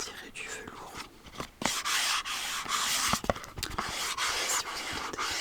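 Soft, close rubbing on smooth, velvety-feeling product packaging, a steady brushing friction with a few sharper scratchy strokes, with whispering in between.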